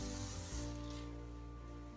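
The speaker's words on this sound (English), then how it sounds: "What you do is you just separate your hair and spray it in at the scalp." Hair product is sprayed from close range onto the scalp during a curly hair styling routine, giving a short, steady hiss that fades slightly toward the end.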